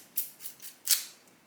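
Dry onion skins are peeled by hand, making four short, crisp crackles close to the listener, spaced irregularly over a faint, quiet background.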